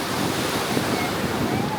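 Steady roar of large surf on England's Jurassic Coast in Devon, with broad rushing noise and wind buffeting the microphone throughout, no distinct breaks between waves.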